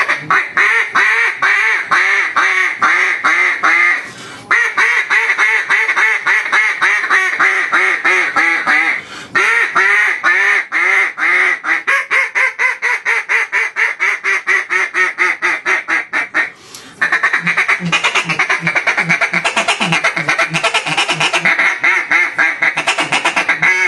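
A Queen B.I.G. duck call blown to mimic an old hen mallard's deep, raspy quack, with long runs of rapid, loud quacks in steady strings, breaking briefly before another fast series.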